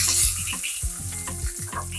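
Dried red chilies and curry leaves sizzle and crackle in a small amount of hot oil in a pan for Andhra buttermilk curry, a steady close fry with stirring scrapes and a few utensil knocks.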